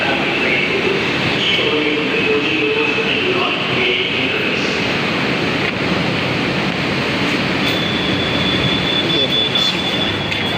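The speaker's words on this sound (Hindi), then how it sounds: "ये ट्रेन आ गई है, ये देखिए, अब ये रुकेगी।" A train pulls into a station platform and slows to a stop on the Parel Road line, its loud, steady rumble and screeching wheels filling the scene, with a high whine near the end and people talking nearby.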